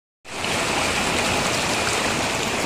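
Rushing water of a village waterfall, a loud, dense and steady roar that starts abruptly and fills the whole space close by, with no voices heard.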